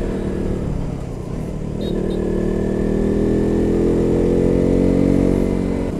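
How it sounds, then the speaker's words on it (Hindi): A motorcycle rides along a forest road through Saranda Forest on the way to Hirni Fall. Its engine makes a steady, loud, close drone that holds for the whole stretch with no talk. "ये रोड में बाइक चलाने का मजा ही अलग है"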